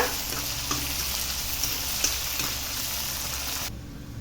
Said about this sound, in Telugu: పచ్చిమిర్చి చీలికలు వేస్తున్నాను. అలాగే టమోటా ముక్కలు, ఇవన్నీ వేసుకొని బాగా కలుపుకోవాలండి, అడుగంటకుండా.